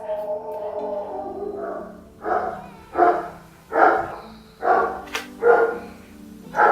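A dog barks repeatedly at close range, giving about five sharp barks at a steady pace over a low background hum.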